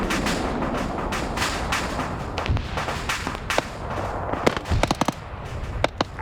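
Wargame video game gunfire crackles as dense, irregular bursts of sharp pops and cracks, building into a rapid cluster of louder shots toward the end.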